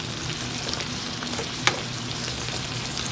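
Green onions sizzle in a pan for a turkey noodle veggie stir fry, a steady crackling fry with one sharp clink of a utensil partway through and no voices.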